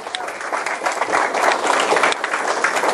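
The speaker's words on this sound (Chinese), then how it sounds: "所以在这借大家掌声来感谢我生命中的贵人" An audience bursts into applause, a dense, even clapping from a crowd that holds steady throughout, with a voice faintly under it.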